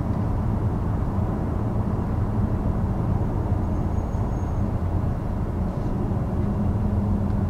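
Inside a 2020 Volvo S90 R-Design cruising at speed, a steady low road and wind rumble fills the cabin, even and unbroken, with no one speaking.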